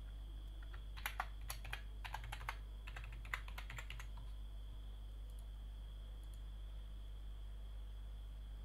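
Fingers tap out a name and password on a computer keyboard in a quiet room, a few short bursts of clicking keystrokes between pauses, then steady low hum with no talking.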